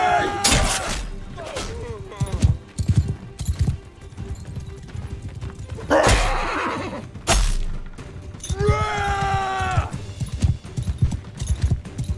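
A horse in the medieval battle game Mount & Blade II Bannerlord whinnies loudly twice amid clattering hoofbeats, thuds and combat clashes, with a player's voice talking over parts of it.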